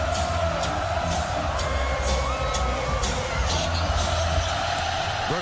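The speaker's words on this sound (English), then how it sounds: "let's listen to the crowd." A large college football stadium crowd roars continuously after a touchdown, a loud sustained wash of cheering with no break across the whole stretch.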